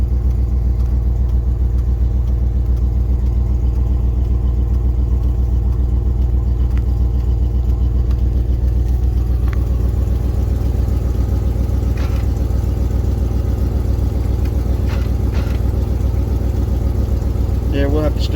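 A Jeep Cherokee engine idles in a steady, loud low rumble, with a few light clicks and knocks near the end and a voice faintly in the background.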